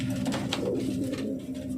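Racing pigeon giving a low, resonant coo, a single rolling call close by and fairly quiet, with faint background noise.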